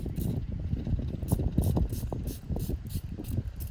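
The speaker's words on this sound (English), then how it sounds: "So I'm going to spray just a little bit more" Quick hissing sprays of water from a spray bottle onto watercolor paint come in a rapid series of short bursts, close by, with faint mechanical clicks of the trigger.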